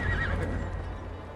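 A horse in the video game Assassin's Creed Valhalla gives a loud, close whinny over a steady rumble of hoofbeats, brief and alone.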